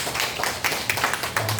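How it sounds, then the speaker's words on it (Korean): Brief scattered clapping from a church congregation welcoming returning members, soft and somewhat distant, with uneven individual claps over a faint room hum. "우리 박수로 환영합시다"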